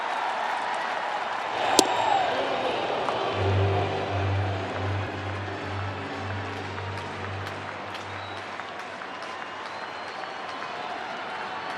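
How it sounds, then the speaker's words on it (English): Baseball stadium crowd at a Cardinals spring training game in St. Louis, a steady roar of cheering and applause that swells early and holds throughout, with a low sustained hum underneath. "Listen to the crowd in St."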